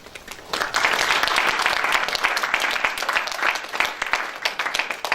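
Audience applause fills a lecture hall at a humanities camp after a preacher's rousing call, a dense, steady wash of many hands clapping that swells quickly after a brief quiet start and holds loud for several seconds without talk.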